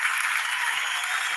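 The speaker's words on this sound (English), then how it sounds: "Cue laughter, cue applause." Dense studio-audience style applause, a continuous even roar of many hands clapping, loud and unbroken for its brief length.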